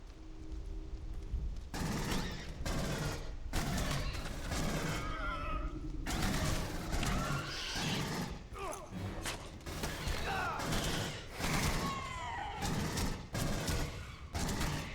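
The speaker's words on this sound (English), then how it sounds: "So this pulse rifle only shoots in bursts." A pulse rifle in the Aliens: Colonial Marines video game fires in short, sharp bursts, several loud rattling volleys separated by brief gaps, with other game noises in between.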